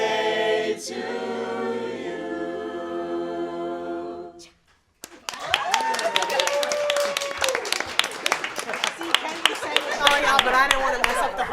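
Audience applauding an a cappella group, with a sung harmony giving way after a brief pause to a burst of clapping from a crowd that continues steadily to the end.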